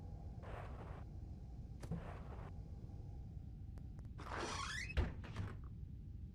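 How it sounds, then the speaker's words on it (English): Several faint door sounds from Garry's Mod in a Stanley Parable parody: brief sliding swooshes and a thunk, then a longer creaking squeak with a knock, set against a low background hum. "Stanley went through the door on his left."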